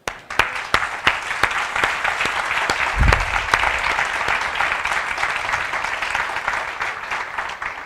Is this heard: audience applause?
yes